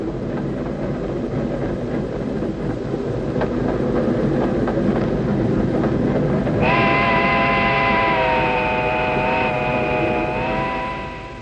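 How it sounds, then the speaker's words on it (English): A train runs along the rails with a continuous rumbling clatter close by, and partway through a sustained horn-like tonal sound joins it and holds to the end. "Do you know where this train's going?"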